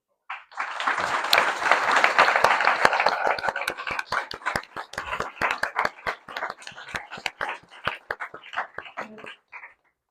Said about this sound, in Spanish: de nuevo un fuerte aplauso para Estudio Hidalgo